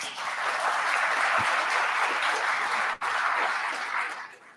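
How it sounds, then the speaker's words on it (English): Round of applause from an audience at a veterans workforce panel, dense sustained clapping that holds steady, briefly dips, then tapers off at the end. "If you give them a round of applause."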